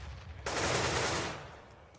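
Gunfire in a Counter-Strike match: a single sustained burst of automatic fire about three quarters of a second long, loud and close, then fading into quieter ambience.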